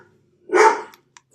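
A single sharp dog bark rings out close by, loud and about half a second long, with near silence before and after.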